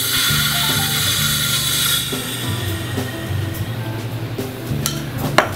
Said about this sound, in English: We just wanna blow out the gas. It's usually a little loud.